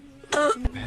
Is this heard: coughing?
yes